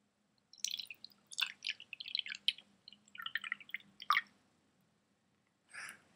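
Water poured into a glass in short gurgling bursts, fairly quiet and close, with a final splash after a brief pause.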